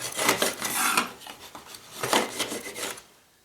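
Hardened lumps of glue get scraped off a laminated wood board in quick rasping strokes that come in bursts, close and fairly loud with no one speaking.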